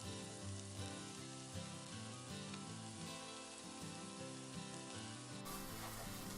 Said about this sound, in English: And let it continue to fry.